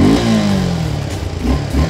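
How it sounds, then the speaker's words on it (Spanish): A Suzuki Gixxer 250 motorcycle engine idles close by after a quick start, a steady, slightly hoarse low rumble with a brief rise at the start, and no talking. "La moto así nomás suena como un poquito ronca, sonido bonito porque no es así tan estruendoso"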